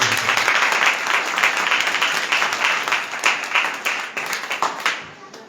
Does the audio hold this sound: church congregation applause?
yes